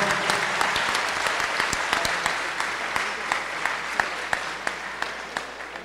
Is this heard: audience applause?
yes